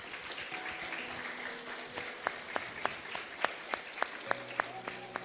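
Church congregation at a Wednesday evening service claps together, scattered and moderate, with individual hand claps standing out sharply near the end while soft organ or keyboard tones sustain underneath.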